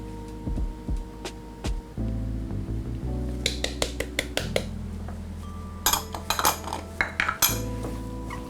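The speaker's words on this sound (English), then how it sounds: "Toss it up, make sure the beef is nice and coated" Beef pieces tossed in a bowl with cornstarch, salt and black pepper, giving repeated clinks and scrapes of utensil against dish, close and fairly loud in bursts, with a low steady hum beneath.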